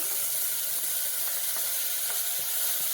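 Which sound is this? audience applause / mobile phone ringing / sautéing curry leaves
sautéing curry leaves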